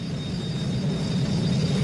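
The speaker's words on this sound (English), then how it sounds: "we can't hear the whistle over Big Jet's engine" A cartoon jet engine roars in a steady, broad whooshing rumble with a thin high whine on top, constant and fairly loud with no pauses, from an animated children's show.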